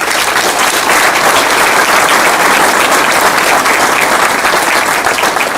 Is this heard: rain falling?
no